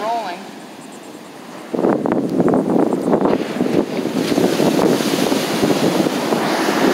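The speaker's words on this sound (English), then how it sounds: "Look at how nice the waves are rolling." Ocean waves roll in under strong wind ahead of a hurricane, a loud continuous rushing roar of surf and wind buffeting the microphone, with a person talking briefly at the start.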